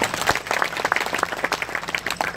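An audience at an expo event in Swat applauds with dense, continuous clapping at close range, steady and lively throughout with no speech over it.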